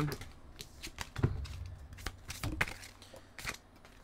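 Tarot cards being shuffled and drawn, a series of crisp riffling snaps and soft slides close by, irregular bursts with quiet pauses between them.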